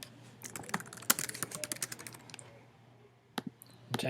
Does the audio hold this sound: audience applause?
no